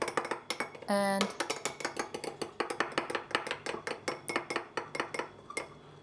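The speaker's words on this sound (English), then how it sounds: "I'll bring in the yolks, add the lemon, and using a fork mix that together" A fork beats egg yolks and lemon in a bowl for Linzer torte dough, making a brisk, even run of about twenty light metallic clinks against the bowl. A voice says a word briefly near the start.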